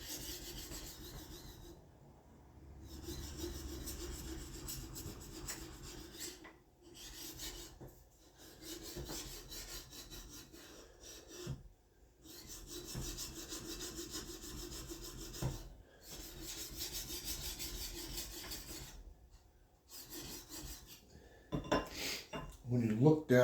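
A draw knife blade rubbed by hand against a sharpening plate, giving rhythmic rasping strokes in bursts separated by short pauses, with metallic scraping and faint handling clinks near the end.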